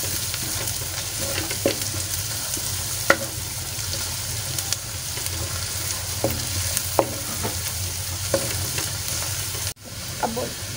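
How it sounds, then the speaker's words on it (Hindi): Onions fry to light brown in a hot pan, a steady close sizzle broken by sharp scrapes and clicks of a spoon stirring, with a brief thud near the end. "प्याज ब्राउन हो रही है मेरी, हल्की ब्राउन करनी है।"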